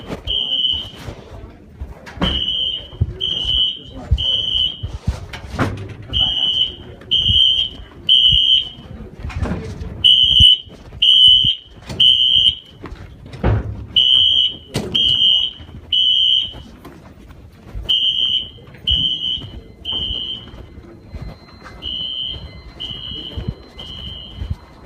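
A school fire alarm tested during a drill, sounding as a repeated high electronic beeping pattern in short bursts with pauses, alongside scattered thumps and faint background noise over about 25 seconds.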